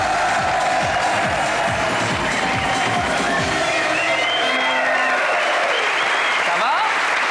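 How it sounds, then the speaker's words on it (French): A studio audience on a French TV show breaks into loud, dense applause and cheering, with some shouts and voices mixed in as the clapping swells and carries on. "Je vous demande d'applaudir très fort Nina Roberts."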